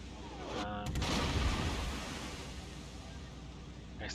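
Incoming battleship gunfire in World of Warships, a naval combat game: a deep, rumbling boom swells and fades over a wash of ocean-like noise, fairly faint and without speech.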